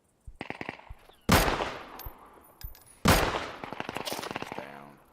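Gunfire in the video game Dead Side: bursts of rapid automatic shots with two loud, sharp reports standing out, close and punchy, with no talk over them.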